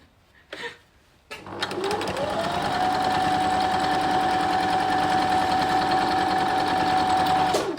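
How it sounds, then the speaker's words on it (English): A sewing machine stitches quilt strips for a 9-patch block: a short burst, a pause, then a long, steady, loud whirring run with a constant pitch, heard alone. "This is some dodgy stitching going on here."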